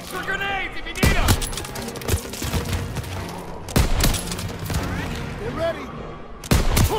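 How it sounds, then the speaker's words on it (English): World War 2 video game battle with loud, sharp gunfire bursts crashing in at intervals over continuous background combat noise, while voices shout orders throughout. "Suppressive fire! Keep firing!"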